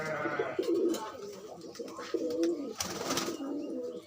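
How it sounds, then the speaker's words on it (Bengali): Red-eyed pigeons kept as a pair coo in soft, repeated low phrases close by, with a few flutters and faint scuffs between calls. "দারুণ জুটি, দারুণ জুটি, লাল চোখের পায়রা"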